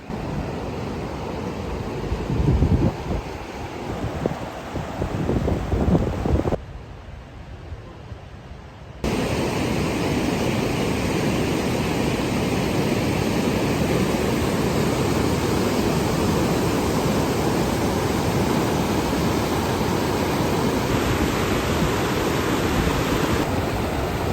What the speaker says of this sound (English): watched powerful rapids cascading